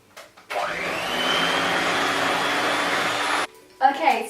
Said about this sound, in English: I prefer using an electric whisk because it goes faster and it's just easier for the one who's whisking it